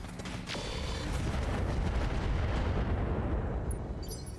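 Rocket detonations in Battletech Roguetech: a sharp crack near the start, then a dense, continuous rumble of overlapping blasts that stays loud and fades slightly at the end.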